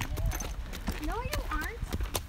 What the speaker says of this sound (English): Those planks, the horses have to walk on them.